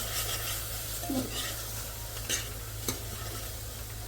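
Spice masala with fenugreek roasting in a pan for mixed dal, a soft continuous sizzle with a few scattered scrapes and taps of the spoon, close and quiet, no speech.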